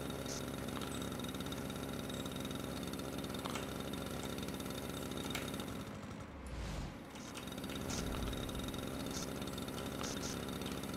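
A tractor engine from the landscaping video game Paysagiste Simulator idles in a steady, low drone that runs on throughout, dipping briefly in the middle, with no talk.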